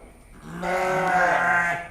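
A fat sheep in a farm pen bleats once, a loud, drawn-out nasal call close by. The call swells in the middle and then fades.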